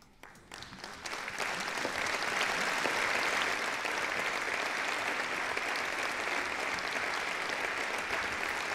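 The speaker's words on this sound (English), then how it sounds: "we're going to have some applause" A canned applause effect fired from a QLab theatre sound cue swells up within the first second and then holds as a steady, dense wash of clapping crowd noise.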